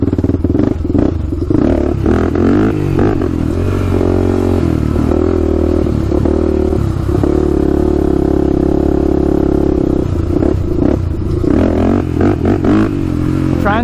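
A Honda 400ex quad's engine during wheelie attempts in first gear, holding a loud, close, steady drone with rough throttle swells and some clatter, and no talking over it.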